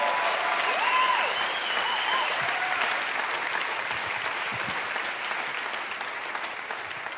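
A church congregation applauds at a Sunday morning service, dense steady clapping that holds at an even level for several seconds, with faint voices mixed in.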